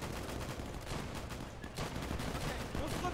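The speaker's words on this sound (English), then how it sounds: "I don't know where the shots are coming from" Gunfire in Easy Red II during a World War II Battle of France fight at Stonne, a dense rattle of distant and mid-range shots and bursts blending into a continuous battlefield din.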